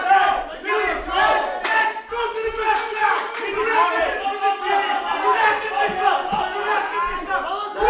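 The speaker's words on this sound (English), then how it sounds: "And the crowd goes wild." A packed arena crowd roars and cheers loudly through the final seconds of a live competitive match, a dense continuous wall of voices with shouts and bursts of excitement, while a commentator talks excitedly over the noise.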